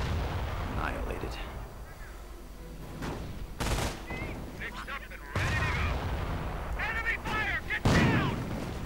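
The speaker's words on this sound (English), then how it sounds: "Mortar rounds going in on the MG crew." Mortar rounds and gunfire in a video game battle: repeated booming impacts and crackling shots at mid distance, with a commentator talking over them.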